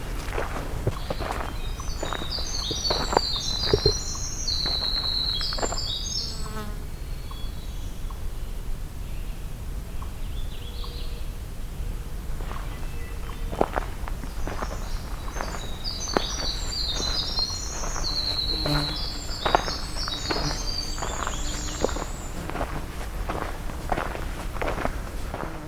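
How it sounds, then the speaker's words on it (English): A magnolia warbler sings short bright phrases twice, at a moderate distance on a forest hike, over a steady crunch of footsteps on a trail. "This is magnolia warbler."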